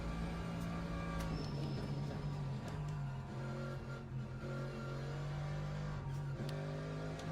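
Steady engine drone of a car in the racing game Le Mans Ultimate, a torquey, powerful engine held at a constant mid-range hum with little change in pitch, continuous and fairly quiet throughout.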